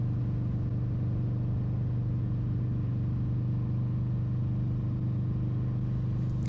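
A car engine hums steadily on a drive near Seneca Lake, a constant low drone with road rumble and no speech.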